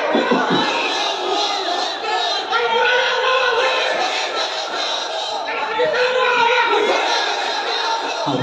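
A large crowd at an Islamic sermon in Bangladesh roars a sustained, loud collective takbir chant, many voices shouting together continuously with no break.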